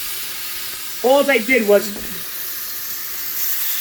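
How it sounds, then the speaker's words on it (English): Chicken marinated in Italian dressing sizzles in a pan, a constant close hiss running through the whole moment while someone speaks briefly over it. "You get a sizzle, that's what you want."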